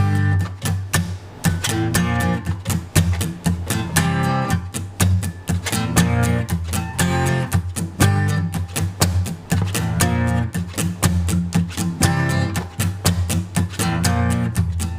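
Acoustic guitar strumming a song at a slowed pace, a steady run of loud, close chord strums with sharp percussive attacks throughout and no voice.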